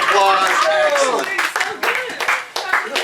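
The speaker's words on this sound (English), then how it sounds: "Give him a round of applause." A group at a lakeside party claps for a participant, a short burst of applause rising under a voice and tapering off in scattered claps.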